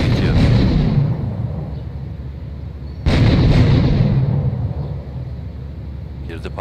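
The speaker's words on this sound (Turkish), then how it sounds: "Girdi, patladı işte." Two heavy explosions boom in Grand Theft Auto 3, one at the start and another about three seconds later, each a loud, close blast that fades into a rumbling tail, with a voice talking alongside.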